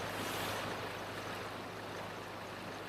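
A fast, deep river near Wilberforce, close to Christchurch, rushes past in a dense, steady broadband roar with no break and no voices.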